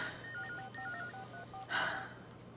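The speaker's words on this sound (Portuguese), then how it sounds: "Eu vou ligar para Maria Ângeles." Touch-tone keypad beeps as a telephone number is dialed, a quick run of short paired tones fairly faint in a quiet room, followed by a brief rustle.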